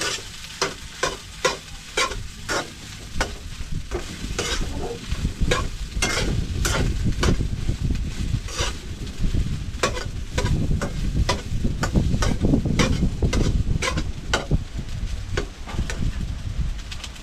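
Fried rice is stir-fried in a pan, with a dense continuous sizzle and repeated sharp scraping clicks of a utensil against the pan, close and loud throughout.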